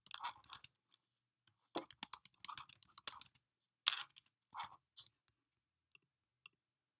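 Keys are tapped on a computer keyboard to type a team name, quiet clicks coming in short irregular bursts with gaps between them, close and isolated with no talking.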